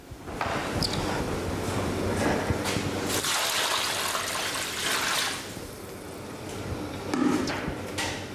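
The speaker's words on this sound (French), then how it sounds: "Pour donner une texture à la soupe et que celle-ci devienne épaisse, Agnès rajoute 15 litres d'eau" Fifteen litres of water poured into a large soup pot on a farm, a steady broadband rushing gush that swells and eases, loud and close, with no talk.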